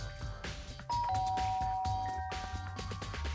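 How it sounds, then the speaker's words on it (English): A doorbell rings once in an animated game scene, a clear sustained electronic chime tone that holds over a low background music bed. "I pressed the doorbell."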